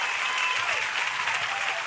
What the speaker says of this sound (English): give me tons of applause